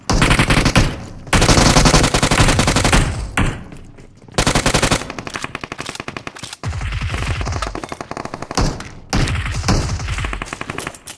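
Loud bursts of rapid automatic gunfire from a battle royale video game, several long sustained volleys separated by short pauses, close and dominant.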